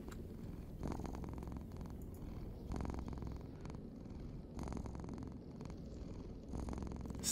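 A cat named Things purring close and soft in a video game, a rhythmic rumble rising and falling with each breath in a slow, regular cycle, no talk.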